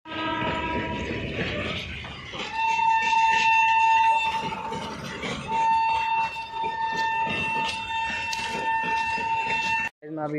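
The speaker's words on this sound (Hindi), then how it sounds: "वो आ रही है, देखो ट्रेन आ रही है।" A train rolls in on railway tracks at a station, its horn sounding in long steady tones over the rumble of wagons and clattering wheels, fairly close and loud, with a voice talking briefly.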